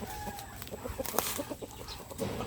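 Short, scattered clucks from a chicken close by, soft and irregular over a faint steady background hiss.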